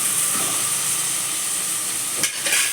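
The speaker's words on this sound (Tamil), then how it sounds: "இப்போ வந்து சிக்கனுக்கு தேவையான வெங்காயம் இங்கே வதங்கிட்டு இருக்கு." Onions sauté in a pan for chicken gravy, giving a steady, close hiss of frying with a couple of short scrapes or stirs toward the end.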